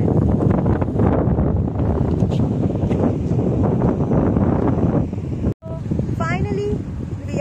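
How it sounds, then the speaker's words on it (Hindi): Strong wind buffets the microphone in a loud, continuous rush for about five seconds, then cuts out briefly and returns at a lower level beneath faint higher tones. "बहुत हवा चल रही है"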